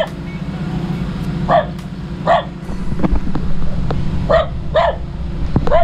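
A dog barks sharply at strangers, giving about six separate barks in an uneven rhythm over a low rumbling engine or motor drone, close and loud.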